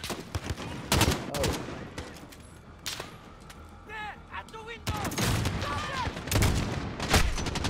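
Gunfire bursts in the Call of Duty Modern Warfare campaign, sharp shots clustered at the start and in the second half, with voices talking between and over the firing.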